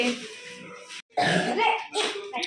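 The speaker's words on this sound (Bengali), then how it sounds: "কাশি হচ্ছে" A child coughs close up in a few harsh bursts separated by short pauses, the last one briefer.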